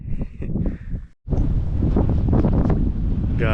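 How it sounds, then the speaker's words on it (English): Strong desert wind buffets the microphone on an offroad drive near Valley of the Gods and Monument Valley, a loud, steady roar with one brief lull midway and no voices. "It's really windy."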